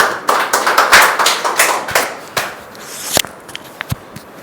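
A congregation in a prayer hall claps in scattered bursts, sharp close hand claps that start dense and then thin out into a few isolated claps toward the end, with no talk.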